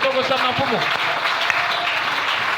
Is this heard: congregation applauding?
yes